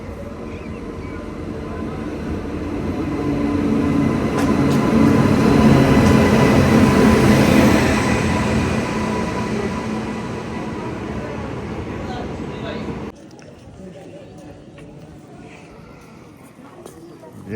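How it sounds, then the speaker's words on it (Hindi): A train arrives at a station in Nainital, its rumble building to a peak and then fading before dropping off abruptly, with people talking throughout. "ये अक्षय वाली ट्रेन आ चुकी है। ये रही ट्रेन।"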